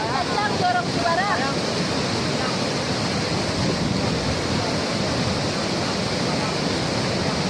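Rushing floodwater roars continuously in Solok, Indonesia, a broad steady wash of noise like a torrent, with faint voices briefly audible early on.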